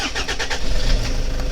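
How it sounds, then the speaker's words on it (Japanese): A used camper van's diesel engine with TDI tuning removed turns over and catches, settling into a loud, close, rumbling run. "問題なくエンジンがつきました"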